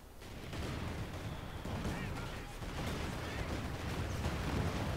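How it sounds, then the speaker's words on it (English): Stuka dive bomber barrage in the video game Company of Heroes 2, a continuous dense rumble of distant explosions and artillery blasts rolling without pause, moderately loud, with a voice talking over it. "Oh, big Stuka barrage."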